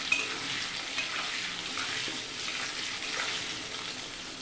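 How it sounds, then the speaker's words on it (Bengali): Potato pieces fry in a pan with salt and turmeric for a katla fish curry, giving an even, steady sizzling hiss at moderate level throughout, with faint occasional stirring and no talking. "এবার আলুগুলোকে ভালো করে একটু ভেজে নেব।"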